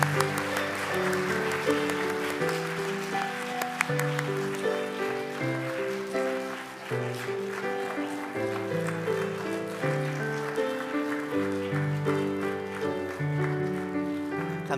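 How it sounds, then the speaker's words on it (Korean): A congregation at a Korean church's third-anniversary Sunday worship service claps in sustained, dense applause while keyboard music plays steadily underneath. "여러분 힘차게 다시 한번 박수해 주시기 바랍니다"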